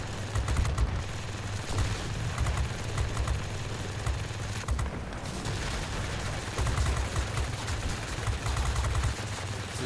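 A Bf 110 C-6 heavy fighter fires in World of Warplanes, its secondary guns in use while the 30mm cannon cools. Dense, continuous rattling gunfire rolls over a low engine drone for the whole stretch, with slight swells.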